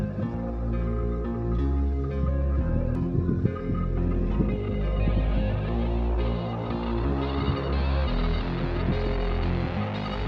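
A sewing machine stitching plazzo fabric runs in a steady, loud mechanical drone with a continuous throbbing hum and no pauses.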